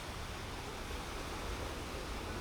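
Big ocean waves surging onto a Colombo beach, a constant hissing wash of surf filling the clip evenly, loud and unbroken.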